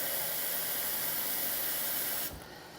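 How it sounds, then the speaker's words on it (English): Steam hisses steadily from a pot steamer on the stove while vegetables cook, a loud, even rush of hiss that drops abruptly to a quieter level near the end. "the steam will start up"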